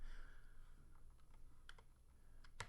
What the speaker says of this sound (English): excuse my typing. My typing skills just absolutely suck.